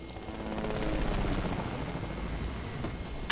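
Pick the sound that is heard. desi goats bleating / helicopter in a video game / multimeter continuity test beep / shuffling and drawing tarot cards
helicopter in a video game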